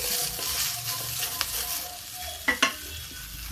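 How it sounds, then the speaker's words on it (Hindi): Cauliflower and potatoes fry in a pan over a village kitchen fire, a steady close sizzle with a few sharp scraping stirs of the spatula partway through, no voices. "जब तक गोभी मेरी इधर भून रही है"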